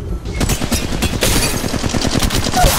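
Rapid bursts of automatic gunfire in the Apex Legends Mobile video game, loud and dense with steady repeated shots across the whole span and a brief lull near the start, no voices over it.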